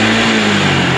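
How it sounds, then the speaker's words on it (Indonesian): A motorcycle engine on a carburetted bike being tuned runs at high revs as the throttle grip is twisted. It is a loud, dense, close engine roar lasting about a second, with a steady drone underneath. "Handle gasnya kita untir,"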